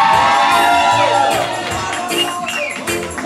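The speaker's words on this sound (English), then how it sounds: "Let's give them one more nice round of applause," Wedding guests cheer and whoop loudly as a crowd at an evening reception, a dense, continuous burst of shouting and celebration with no clear talk over it.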